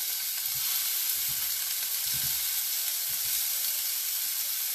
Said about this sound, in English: Just started getting to sizzle